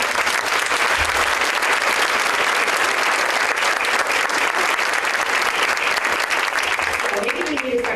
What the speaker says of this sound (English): take a moment for a big round of applause